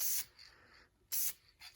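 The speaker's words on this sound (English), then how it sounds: "nice spray gun, because this is quite a wide pattern on these" A spray gun blasts paint across a plastic car bumper on a Mercedes C36 AMG during a spot-blending repair, in two loud bursts of hiss separated by a brief pause, with a shorter softer spurt at the end.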